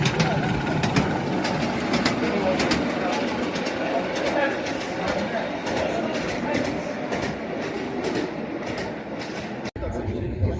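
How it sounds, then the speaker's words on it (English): A miniature railway train running at a bus rally open day, its steady rumble and rhythmic rail clatter filling the scene up close and continuous, with people talking nearby. "there was even a miniature railway."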